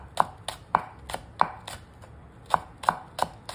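A knife chopping through an ingredient on a cutting board in a home kitchen, nine crisp, evenly paced taps, close and fairly quiet, with no talking over them.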